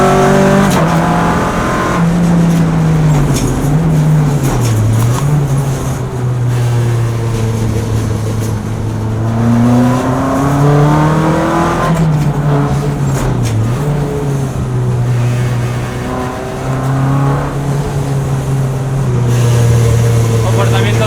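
Renault Mégane Copa front-wheel-drive race car, weighing about 1000 kg, driven on a circuit at Alcañiz: a loud, steady engine drone that rises and falls through gear changes and revs, continuous throughout, with someone talking over it.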